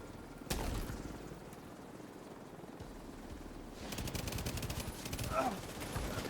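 Video game gunfire: a sharp, loud shot near the start, then a stretch of busy in-game noise before rapid bursts of shots and clatter return toward the end.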